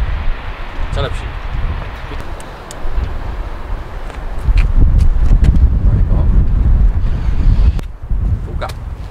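Gusty wind buffets the microphone with low, rumbling bursts that swell and fade, strongest in the second half, with faint voices in the background.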